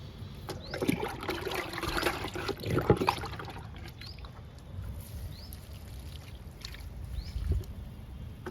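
Liquid fertilizer trickles and splashes onto a bean plant in an outdoor garden, a soft, uneven pouring sound with small gurgles and drips, faint and close, with rustling around it.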